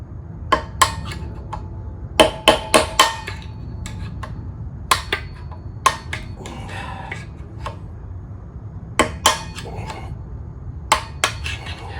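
Metal-on-metal hammer strikes drive a wheel bearing out of the hub of an NC700X motorcycle wheel, coming as irregular sharp clanks in short bursts with pauses between, close and fairly loud, with some scraping in between.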